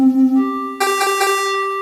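A retro synth plugin's first preset patch plays a clean tonal note that steps to a lower pitch, then a brighter, buzzier harmonic tone with a slight pulsing, loud and alone.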